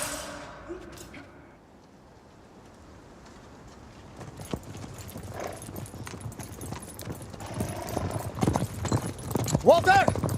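Horse hooves clip-clop on a road, a rhythmic clatter that builds from faint to loud and close as the horse picks up speed, with voices talking over it.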